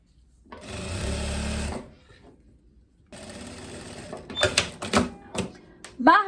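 A sewing machine stitches a narrow hem on a linen ruffle in two loud, steady bursts separated by a quiet pause, followed by clicks and handling noises near the end.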